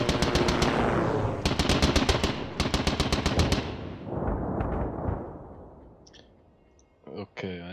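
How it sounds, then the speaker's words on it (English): Machine-gun bursts from a strafing aircraft in the World War One tactical game Squad Battles, rapid rattling volleys in several loud bursts that fade into rumbling, with a few faint clicks near the end. "aircraft went over and fired into something"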